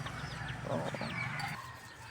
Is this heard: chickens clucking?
yes